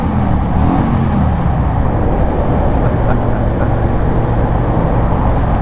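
Vehicle driving through the Lyttelton Tunnel in Christchurch, a loud continuous engine and exhaust drone with road roar echoing off the tunnel walls, steady with no voices.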